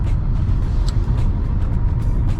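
Kia Sportage hybrid SUV downshifting in sport mode on a night drive, a steady low engine hum and road rumble holding continuously with a slight rise in pitch, no voices over it.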